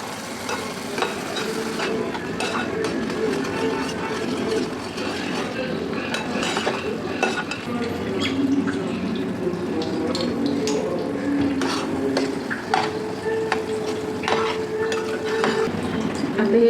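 Dry fruits sheera cooking in a pan with hot milk stirred in, giving a steady sizzle with clinks of a spoon against the pan and scraping stir strokes, close and continuous throughout.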